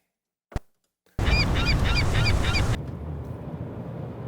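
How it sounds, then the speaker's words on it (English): Seagulls calling over a harbor, a quick run of repeated squawking cries over loud, steady background noise, cut off abruptly and followed by quieter ambience. "So I like those seagulls."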